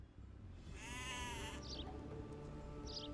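A single sheep bleats in Age of Empires 2 Definitive Edition on Xbox Series X, a quavering game-sound baa lasting under a second, soft against faint background ambience, followed by a couple of small interface chimes.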